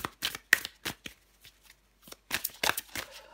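Tarot cards are shuffled and drawn in quick papery bursts, with sharp flicks and slaps in irregular clusters separated by brief pauses.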